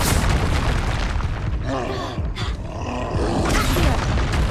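In the video game Hogwarts Legacy, a fire spell roars out in dense, loud booming bursts and rushing flame, with a brief dip in the middle, amid dense combat noise and a voice shouting over it.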